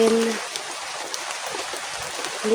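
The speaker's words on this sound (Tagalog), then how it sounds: "Hindi pa rin nauubos yung ulan mga kaidol" Steady rain falling, an even soft hiss of drops on surfaces, fairly quiet, with a brief voice and tone at the edges.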